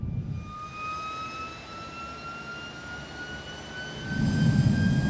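A jet engine is throttled back, giving a steady whine with rising high tones over a low roar. A deeper rumbling surge swells near the end.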